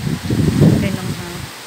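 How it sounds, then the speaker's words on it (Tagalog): Strong gusty wind during heavy rain in Dubai, a short rushing roar that swells and then eases, with a voice speaking over it. "Ang lakas ng hangin."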